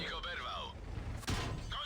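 A tank cannon fires in World of Tanks from an IS-3A heavy tank: one heavy booming shot about two-thirds of the way through, heard over a player's talking and game engine rumble.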